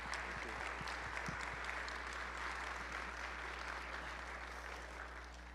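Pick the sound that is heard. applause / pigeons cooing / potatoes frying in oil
applause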